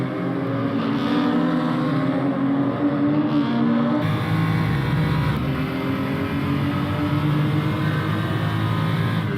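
BMW 235i racing cars at Zandvoort circuit roar past with a steady, loud engine drone that shifts pitch midway as the cars pass, sustained throughout without pause.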